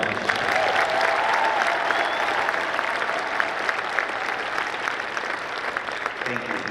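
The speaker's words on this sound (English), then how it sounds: "Let's give them another round of applause." Sustained applause from a college graduation audience fills the hall, a dense, steady patter of many hands clapping at moderate volume for several seconds, tapering slightly toward the end.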